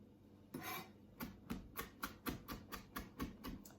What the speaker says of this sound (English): And then just give it some more chopping.